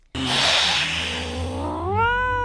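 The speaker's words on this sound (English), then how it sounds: "Meow! It's time for crazy cat news." A house cat gives a drawn-out meow that ends in a rising, harmonic-rich wail, loud and close, with no talk over it.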